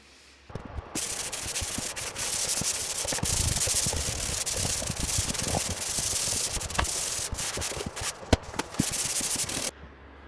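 Sanding a surface by hand before priming, a steady continuous rasping rub that runs close and loud for nearly the whole stretch, with a few sharper scrapes near the end.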